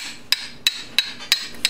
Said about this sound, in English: I've been hitting the bottom of this with a hammer